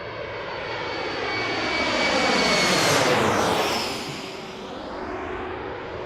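A jet airliner passes close at Washington DCA airport, its broad engine roar swelling to a peak midway and then easing off into a steady distant rumble.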